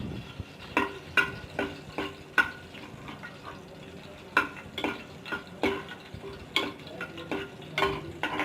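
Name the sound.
curry leaves and whole chillies frying in hot oil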